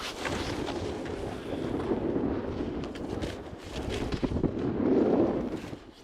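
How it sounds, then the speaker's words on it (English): Steady wind buffets the microphone outdoors in snowy country, a continuous rumbling roar that swells and gusts, with no clear voices. "it's pretty windy"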